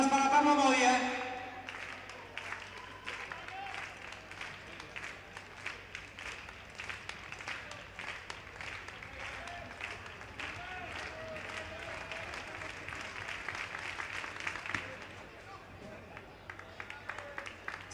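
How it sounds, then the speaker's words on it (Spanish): An indoor track meet crowd keeps up rhythmic clapping for a long jumper, a steady patter of many hands heard under continuous announcer commentary in a reverberant hall, louder at the start and fading slightly near the end. "palmas para Pablo Modia"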